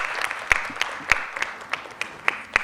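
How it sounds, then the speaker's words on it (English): Applause for speakers at a youth debate, sparse and uneven, a handful of distinct sharp claps standing out over a thin patter from a small audience. "Let's give them a round of applause"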